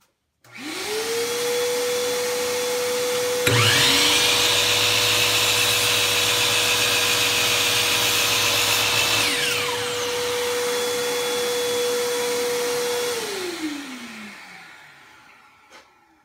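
Shop vacuum connected to the dust port of a Dewalt miter saw, spinning up with a rising whine and running steady and loud, with the saw motor briefly joining midway before the vacuum winds down alone.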